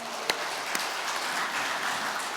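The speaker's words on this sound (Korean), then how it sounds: "이 모든 좋은 날을 허락해 주신 우리 아버지 하나님께 영광의 박수 올립니다." A church congregation at a Sunday worship service gives applause in praise of God, a moderate, fairly even patter of many hands with a couple of sharper claps early on.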